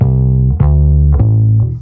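Electric guitar played through a Silktone Echonaut amplifier, three sustained close notes with sharp attacks and a slight edge of distortion on the tone, loud and alone.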